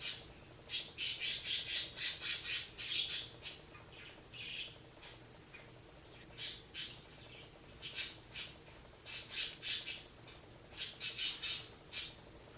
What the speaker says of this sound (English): Could those birds be any louder today?